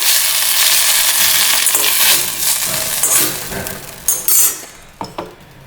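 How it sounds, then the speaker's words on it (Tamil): Thoothuvalai leaves and other rasam ingredients sautéed in a pan, a steady broadband sizzle with scattered clinks and scrapes of a spoon against metal, growing more intermittent toward the end. "மெதுவை வச்சு விட்டு வதக்கலாம்."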